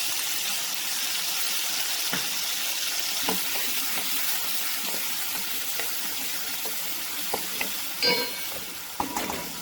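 Ginger garlic paste sizzles and fries in a pan for chicken yakhni pulao, a steady hiss throughout with a few brief stirring scrapes and clinks near the end, no talking.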